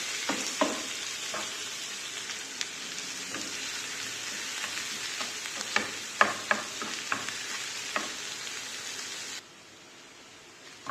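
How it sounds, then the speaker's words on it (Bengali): Onions frying in oil toward light brown for a rohu fish dopiaza, a continuous close hiss with scattered crackles and spoon scrapes, ending abruptly in near silence. "পেঁয়াজকে হালকা ব্রাউন কালার পর্যন্ত ভাজবো।"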